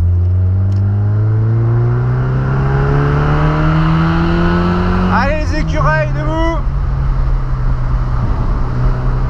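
A Mazda MX-5 with a 110 hp engine drones steadily while driving, its pitch slowly climbing as it pulls, and a person talks over it throughout.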